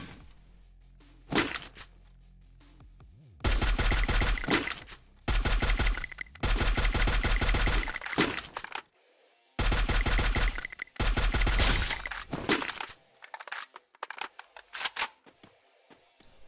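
Bursts of rapid automatic gunfire in the video game Free Fire, several long volleys separated by short pauses, loud and close, with a few single shots near the end.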